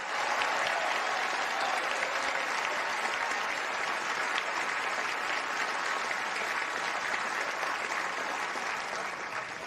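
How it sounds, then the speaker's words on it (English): Large tennis tournament crowd applauding volunteers and ball persons at the Winston-Salem Open, steady dense clapping holding at full strength throughout and tapering only slightly at the end, with no voices over it. "I hope everyone will give a big round of applause for all those volunteers and ball persons"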